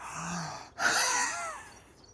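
Two loud, rasping breaths with voiced, throaty tone, a short inhale followed by a longer noisy exhale, close up with no speech.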